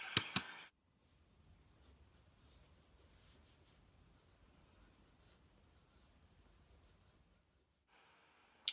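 Pencil strokes on paper while shading a drawing of a face's lips, soft continuous scratching close by and quiet, framed by brief louder handling at the start and end, no voices.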